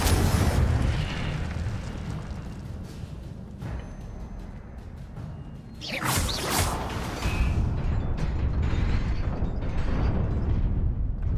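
Incendio fire spell cast in Hogwarts Legacy: a rushing whoosh and fiery burst around the middle, set against rumbling game ambience and mechanical clatter, with occasional thuds and no speech.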